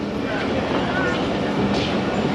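The Jaffar Express pulls out of Gujranwala station on a single-line route, a loud, steady rumble of rolling coaches with a faint clatter throughout and indistinct voices.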